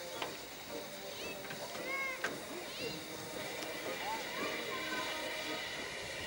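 A Mariazellerbahn train stands at a station, giving off a continuous hiss and rumble with faint squeals and clanks, while voices are heard faintly in the background.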